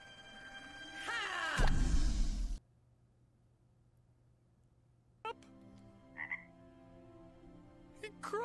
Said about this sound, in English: He croaked! No, he's a frog.